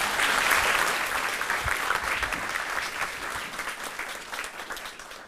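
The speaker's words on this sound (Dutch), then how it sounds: "een warm applaus voor Remco Breuker" Warm audience applause welcoming lecturer Remco Breuker before a talk on the Korean Wave, dense continuous clapping from a hall full of listeners that gradually tapers over five seconds.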